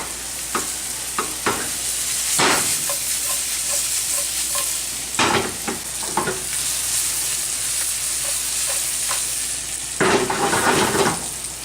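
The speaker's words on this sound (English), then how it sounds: "we've been cooking those mushrooms for about a minute and a half, 2 minutes" Mushrooms sautéing in a pan over raised heat, a constant bright sizzle with periodic spatula scrapes and stirring bursts, close and steady throughout.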